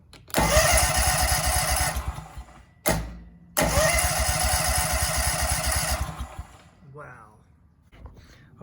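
A zero-turn lawn mower engine that sat unused for four years cranks and starts, running rough and loud at close range, cuts out briefly, restarts and runs again, then shuts off, leaving quiet handling noises and a brief voice.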